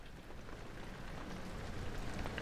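Steady rain in the horror video game Amnesia, a dense even hiss of falling drops spread across the clip at a constant moderate level, with no voices over it.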